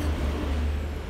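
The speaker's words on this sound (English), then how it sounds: "Excuse our garbage trucks." Garbage trucks idling outside, a steady low engine rumble with a hissing air-brake quality, continuous and fairly loud with no talk over it.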